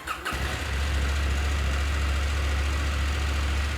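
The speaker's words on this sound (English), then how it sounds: "The first thing we need to do is start the bike and warm up the oil." A KTM 790/890 Adventure R motorcycle engine catches after a brief crank and settles into a steady, loud, low idle close by, with no talking.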